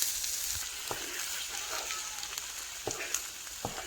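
Diced tomatoes and tomato paste sizzle with vegetables in a jambalaya pan, a soft, steady frying hiss with occasional clicks and scrapes of stirring, close and fairly quiet.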